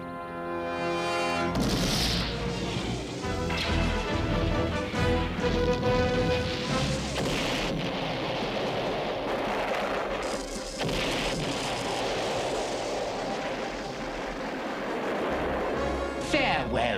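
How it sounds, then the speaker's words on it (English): Cartoon heat-seeking missiles launching from a space station and exploding, loud rumbling booms and crashes with whooshing blasts running throughout, mixed with dramatic music and voices. "Prepare to launch heat-seeking missiles."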